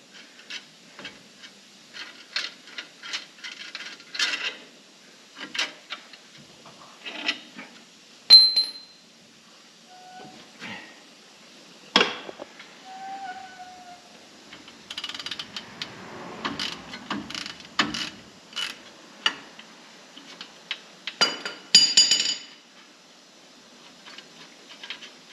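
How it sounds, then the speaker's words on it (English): Bolts come out of the wheel bearing hub on a 1997 Dodge Ram 1500 4WD, heard as intermittent metallic clinks, ratcheting and tool taps scattered through a quiet workspace, faint and close. "Now if I take these bolts out of here,"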